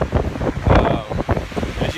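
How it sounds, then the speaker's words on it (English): Strong wind roars across a mountain peak on a circle island tour, buffeting the microphone in loud, gusty bursts with a rumbling low roar, and faint voices can be heard underneath. "it's very windy up here"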